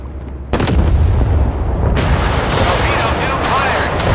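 Heavy naval guns fire from a Russian warship, the Pyotr Velikiy, in the video game Force of Warships. Loud booming blasts overlap with a second burst, followed by a sustained rumble.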